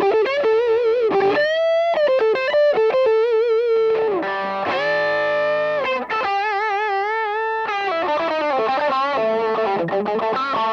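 Electric guitar played through a Maxon overdrive distortion pedal, sustained driven notes and bends with a thick, saturated tone, loud and continuous with no talking.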